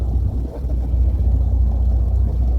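A small outrigger boat's motor runs steadily at close range, a loud low droning rumble with constant throb and no speech over it.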